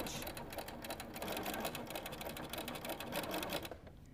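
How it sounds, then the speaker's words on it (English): Sewing machine running steadily at a slow pace while stitching in the ditch along quilt binding, a continuous close mechanical whir with rapid needle clatter throughout, fading out near the end. "Then I'm going to start sewing slowly, making sure my needle is in that ditch."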